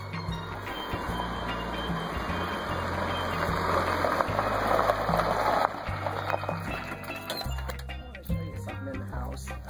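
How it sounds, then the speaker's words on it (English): An old car pulls up with a low, steady engine rumble under a rising broadband roar that peaks, then eases as it arrives, with a few clicks and knocks near the end; no talk. "So here comes Dorothy driving Miss Daisy now."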